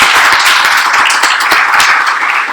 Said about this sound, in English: And can we give a small round of applause for Nikki and Ryan?